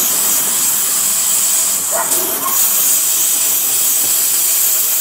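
A small Campbell Hausfeld air compressor powering a tool on a bush hog blade, a loud steady air hiss that continues throughout with faint clanks near the middle.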